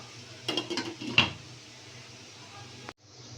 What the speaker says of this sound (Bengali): আমি আবার ঢাকনা দিয়ে ঢেকে দিব